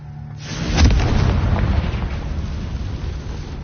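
The Confringo fire spell explodes in the Hogwarts Legacy video game, a heavy, booming blast that hits sharply and then rolls on in a long, rumbling tail.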